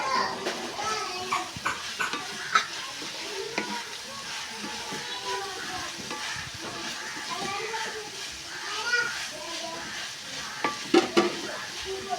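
Sliced onions and shallots frying in a pan for a Kerala-style beef roast, a continuous sizzle with stirring clatter, while children's voices and chatter carry on in the background.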